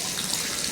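Water pours steadily into a fish tank, a soft continuous hiss and splash heard close up, with no other sounds.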